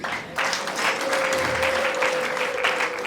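Wedding guests clap together in a steady, dense round of applause that swells after a brief quieter start and holds loud and close throughout, with a faint sustained tone running underneath.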